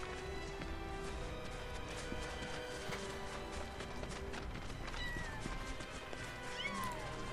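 A cat and her kittens meow in Final Fantasy VII Rebirth, with faint short mews heard late and well back in a dense, steady mix of game music and ambience.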